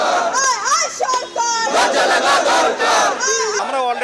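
Job seekers at a sit-in protest shout slogans together, a loud crowd chanting in rhythmic bursts with many overlapping voices raised close by.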